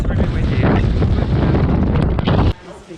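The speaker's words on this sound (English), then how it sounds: "I have to turn off the camera now because it's really windy." Strong, cold wind buffets a camera microphone outdoors in St. John's, Newfoundland, a loud rumbling roar that runs for about two and a half seconds, then drops suddenly to quiet.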